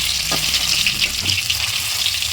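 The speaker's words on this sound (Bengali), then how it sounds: "তো দেখো, ঠিক এইভাবে আলুগুলো ভাজতে হবে, একদম লাল করা চলবে না" Potato pieces fry in hot oil with a loud, continuous close-up sizzle and faint bubbling, broken only by a soft tap or two, and no talking.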